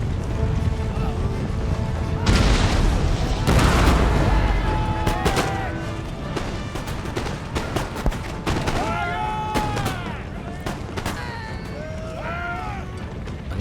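Cannons firing canister shot in the video game Empire Total War, heard as a series of loud booming volleys and crackling gunfire over battlefield noise, with a big burst near the start and scattered shots after it.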